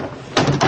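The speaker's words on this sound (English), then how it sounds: "Open that door, you coward." A door opens with a loud, close creak and rattle in two bursts over a steady background hiss, with no voices.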